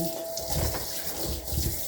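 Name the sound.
tap water running into the sink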